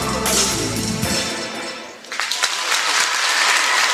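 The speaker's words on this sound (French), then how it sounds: "les applaudissements du Palais Omnisport de Thiers" An arena crowd at a gymnastics competition, the Palais Omnisport de Thiers, applauds in a dense wash of clapping that thins for a moment and then swells again, with faint voices in the mix.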